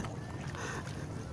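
An Intex Seahawk 4 inflatable boat is paddled on a lake. Soft water swishes and splashes sound close by under wind noise, with faint voices in the background.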